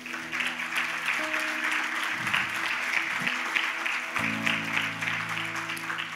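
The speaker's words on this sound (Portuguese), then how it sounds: "Você pode dar uma salva de palmas para o Senhor?" A church congregation claps steadily for about six seconds, while an organ or keyboard holds sustained chords beneath the dense applause.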